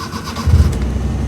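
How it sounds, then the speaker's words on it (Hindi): A Maruti 800 car's engine cranks and catches at the turn of the ignition, with a brief, close starter whirr quickly settling into a low, steady running rumble. "ये मैं लगाता हूँ और ऑन करता हूँ इग्निशन।"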